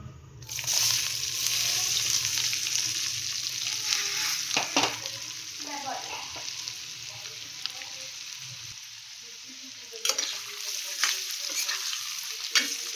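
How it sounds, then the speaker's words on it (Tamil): Boiled gooseberries frying and sizzling in plenty of oil for pickle, stirred with a utensil, close and steady with occasional scraping clatters. "அடுத்தது நம்ம வேக வச்சு வச்ச நெல்லிக்காய் சேர்த்துடலாம்"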